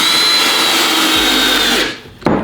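A Ryobi entry-level drill on its lowest speed drives a screw into wood, a loud steady motor whine for about two seconds that cuts off abruptly, followed by a short clunk.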